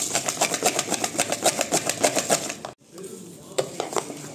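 Sugar and salt are stirred into a mixture with quick, rhythmic scraping strokes of a spoon against a bowl, steady and close, then a short pause and a few scattered strokes.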